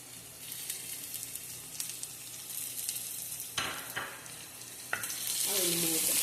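Ginger and curry leaves fry in hot oil with garlic for an avocado pickle, a quiet steady sizzle broken by a few sharp crackles and spoon scrapes, louder spitting toward the end.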